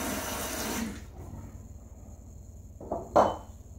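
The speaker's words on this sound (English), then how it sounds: "So let's keep adding a little bit of water." Water trickles into shaving lather made with Gibbs No 17 soap, a steady faucet-like flow for about a second, then quiet wet stirring and a brief louder splash near the end.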